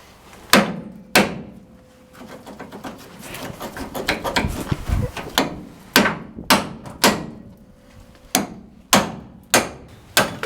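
Repeated heavy strikes of a hammer on a truck suspension bracket during a Firestone Ride Rite airbag install, sharp loud metallic bangs at an uneven pace with a short dense flurry of hits in the middle.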